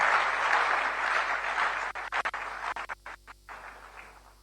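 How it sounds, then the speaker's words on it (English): An audience at a political gathering applauds, a dense wash of clapping that starts full and then breaks up into scattered, choppy bursts as it fades out near the end. "Please, round of applause for Dr. Zaneto Rawlings."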